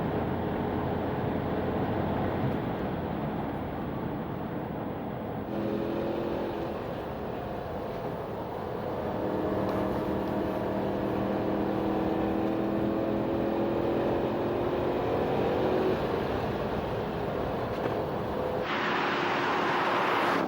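Porsche Cayenne GTS driving a long road circuit at a test track, its engine droning continuously and rising and falling through gear changes, with wind and road rush throughout.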